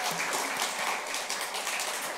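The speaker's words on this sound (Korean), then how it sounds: "박수로 함께 영광 올리도록 하겠습니다" Applause from a church congregation at a Wednesday prayer service, a steady, dense wash of clapping that holds evenly for a couple of seconds with no voices over it.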